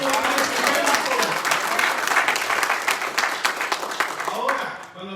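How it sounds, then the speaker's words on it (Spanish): A church congregation applauds during a Spanish-language sermon, with dense sustained clapping and some cheering filling the space, and a voice emerging faintly near the end. "Denle un aplauso a Jesús."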